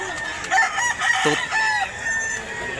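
A young bullstag rooster crows nearby in a Cebu yard, its call mixed with clucks and calls from other fowl against faint background chatter.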